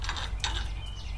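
A ratchet tightens a bolt on a Toyota Sienna trailing arm bushing, giving a quick run of close, crisp clicking turns with no talk.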